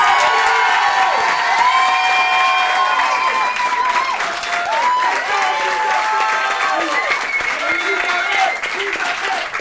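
A live studio audience at a French television game show applauds and cheers in a continuous loud wash of clapping, with whoops and voices rising above it throughout.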